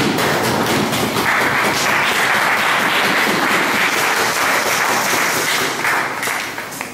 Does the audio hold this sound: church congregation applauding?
yes